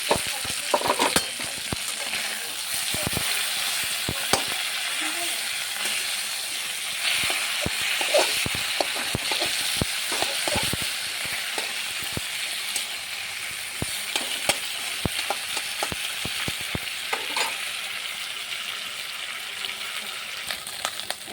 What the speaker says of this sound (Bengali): এখন মাছের মাথাটা ভাজা হয়ে গেছে